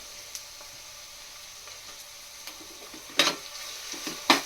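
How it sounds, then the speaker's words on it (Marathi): Ginger garlic paste fries with softened onions in a pan for pav bhaji, giving a soft, steady sizzle. Two louder scraping stirs come near the end. "आता त्याच्यामध्ये आलं लसूण पेस्ट टाकूया"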